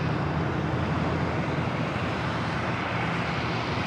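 A jet airliner on its takeoff roll from runway 25 left at Los Angeles International Airport, a steady, dense roar of engine noise that holds loud and unbroken throughout.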